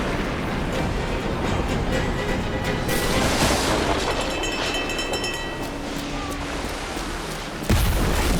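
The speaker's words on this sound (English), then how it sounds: "Man the cannons!" Ship cannons fire during a naval battle in the game Assassin's Creed Black Flag, with booming blasts in a dense, continuous mix of battle noise and music, and a sharp bang close to the end.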